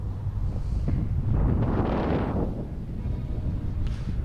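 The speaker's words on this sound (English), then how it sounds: "It was windy, but it was gusty." Gusty wind buffeting the microphone on a beach during kitesurfing, a low rumbling roar that swells to a peak mid-clip and then eases off.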